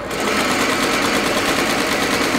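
An embroidery machine in a trucking dealership's graphics department stitches a design onto company shirts, giving a steady, even mechanical whir with a fast rapid chatter that runs alone and unbroken throughout.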